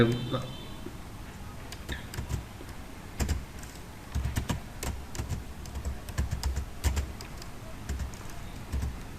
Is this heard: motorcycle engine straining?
no